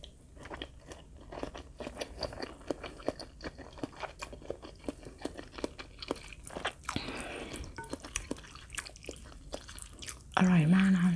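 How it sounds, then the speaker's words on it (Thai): Close, crunchy chewing and biting of Thai rice noodles eaten with a mango and crab salad, irregular wet mouth sounds repeating throughout, quiet, with a short louder hum near the end. "ส่วนนี้เป็นขนมจีนนะคะอืมเดี๋ยวเราจะมาเริ่มกินกันเลย"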